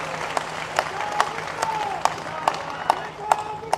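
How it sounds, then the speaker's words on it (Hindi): An audience at a public event in Mehrauli, Delhi, applauding their MP with sparse, evenly spaced sharp claps over a murmuring crowd, fairly close, while a voice talks underneath. "एक बार जोरदार तालियां हमारे सांसद जी के लिए बजाएं।"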